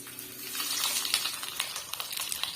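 Masala-coated fish frying on a tawa in oil with curry leaves, a close, crackling sizzle with scattered pops, no talking.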